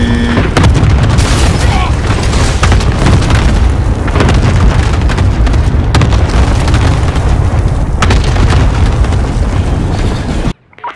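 A cluster strike bombing run in the video game Call of Duty produces a dense, continuous barrage of loud, overlapping explosions and deep rumbling that lasts nearly the whole stretch, then cuts off abruptly. Radio chatter is mixed in.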